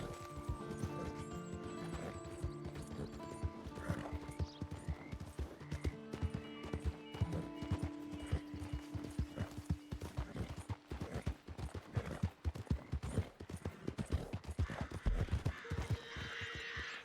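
Video game horse hooves galloping in a Western setting, rapid rhythmic hoofbeats throughout with a whinny among them, over faint tonal game music early on.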